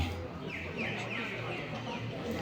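Chickens clucking nearby in a Thai rural setting, a few short rising clucks repeating over a busy background murmur with some voices.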